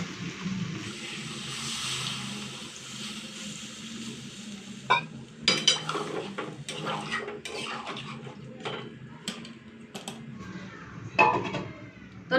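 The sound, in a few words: lid placed on cooking pot of soybean curry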